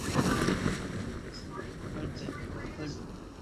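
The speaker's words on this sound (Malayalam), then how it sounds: "ഒരു ബോട്ട് കൂടെ വരുന്നുണ്ട്." In a video game, a boat's motor drones as it approaches, a low rumbling hum amid wind-like noise and faint voices.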